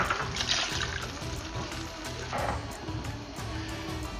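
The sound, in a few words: half cup of water poured into gravy pan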